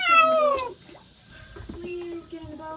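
A feral cat in floodwater lets out a loud, drawn-out meow that falls in pitch, followed by softer, quieter cries and a few faint rustles.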